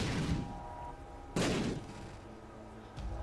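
Scatter bombs exploding in The Binding of Isaac: a loud burst at the start, a second sharp blast midway, then a smaller pop near the end, each with short rumbling decay.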